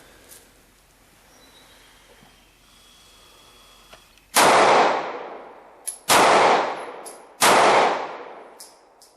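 Three sharp, loud pistol shots from a Kahr CW9 at an outdoor range, spaced roughly 1.5 seconds apart, each with a quick ringing decay after a quiet lead-in.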